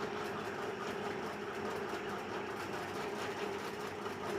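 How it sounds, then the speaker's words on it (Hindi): Sewing machine stitching along the edges of blouse fabric and lining hums in a continuous, even mechanical whir at low volume, with no talk over it. "किनारे किनारे पे सिलाई लगा लिए हैं।"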